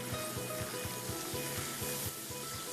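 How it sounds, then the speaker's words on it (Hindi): Cream, yogurt and chicken powder being mixed into malai qeema in a hot pan, giving a steady sizzle with a regular, rapid scraping rhythm from stirring, close and continuous. "अच्छा सा मिक्स करेंगे"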